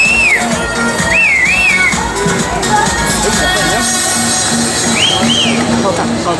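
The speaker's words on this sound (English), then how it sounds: "Whistle a hoop, holler, clap your hands, stomp your feet." Crowd whistling at a bikini contest in a Hooters bar in Sanford, Florida, with loud rising and falling whistles over steady crowd noise and a compère talking throughout.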